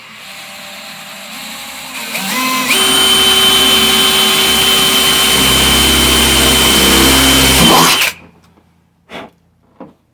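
Power drill boring into a car door body while fitting a weatherstrip. A motor winds up to a loud, steady whine that holds for about five seconds, then cuts off abruptly, followed by a couple of quiet knocks.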